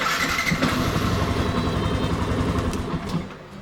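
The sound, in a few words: Yamaha FZ v2.0 motorcycle engine being started without throttle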